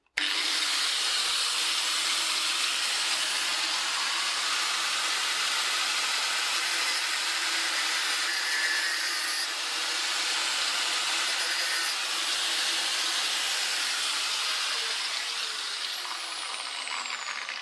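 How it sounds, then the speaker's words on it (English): An angle grinder works on an old bicycle, a loud, steady, high-pitched grinding whine that holds almost unbroken for around seventeen seconds, close and alone. "So I'll try my trusty angle grinder."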